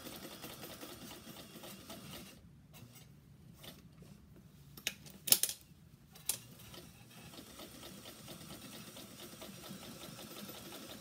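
A sewing machine runs a steady edge stitch along the hem of a dress made from a kitchen towel, a low continuous whir with a few brief clicks and taps midway, moderately quiet and close.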